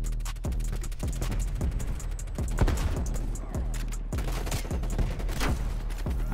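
Rapid, dense gunfire from an akimbo LW3 Tundra sniper rifle in Call of Duty Cold War, with sharp shots cracking one after another over a constant battle din for the whole stretch.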